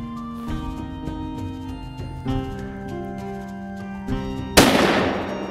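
A single hunting rifle shot on a driven wild boar and deer hunt in Germany cracks loud and sharp near the end, then rolls away over soft background music.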